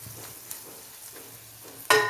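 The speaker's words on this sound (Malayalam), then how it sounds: "തേങ്ങ ഇവിടെ വറുത്തെടുത്തിട്ടുണ്ട്" Grated coconut roasts in a pan, with soft scraping stirs over a faint dry sizzle and a louder scrape at the end.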